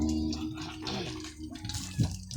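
Water from a hand pump splashes and gushes into a bucket, a steady watery rush with a few louder sloshes, fairly close.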